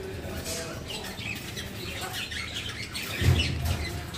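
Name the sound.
birds chirping at a bird farm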